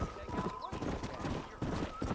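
Horse hooves gallop in Red Dead Redemption, a steady clip-clop rhythm running throughout at close range over a busy game soundscape, with talk and a short whinny mixed in.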